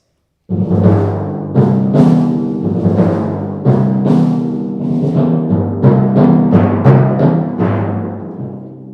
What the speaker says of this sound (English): You'll see these big old timpani drums.